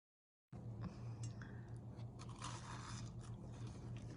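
Someone bites and chews homemade crunchy candy dusted with powdered sugar, close-up crunching and scraping bites under a low steady hum.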